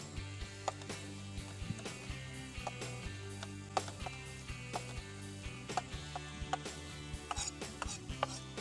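A knife julienning cooked bacon on a board gives quick repeated chopping taps in a steady rhythm, close and fairly faint, with no talk.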